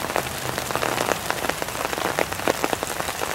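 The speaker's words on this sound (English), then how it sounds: "But it is starting to rain right now, pretty heavy again." Heavy rain falls onto a surface in a dense, continuous patter of close drops, loud and steady, with no talking.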